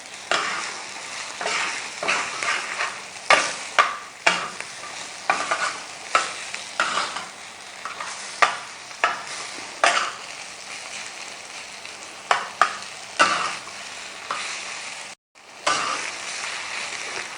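Khagina egg mixture stirred with a spoon on a sizzling tawa, giving repeated rhythmic scraping strokes over constant frying hiss, close and steady with a brief dropout near the end.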